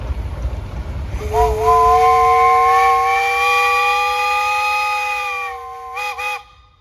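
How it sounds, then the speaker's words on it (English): A steam whistle on a Baker steam traction engine with a JS boiler, in a Michigan threshing show tractor parade, blows one long steady loud blast and then two quick short toots. "Hey, you got a whistle on there."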